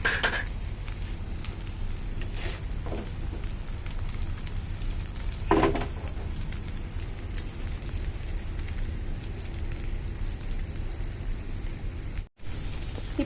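A Spanish omelette's beaten egg mixture fries in a pan with a steady, close crackling sizzle like light rain, broken by a couple of brief clatters and a short gap near the end, with no talking.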